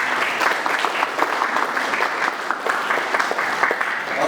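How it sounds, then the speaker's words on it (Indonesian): A church congregation at a youth worship service claps together in sustained, fairly loud applause, dense and even with no voices standing out. "Kasih dulu tepuk tangan."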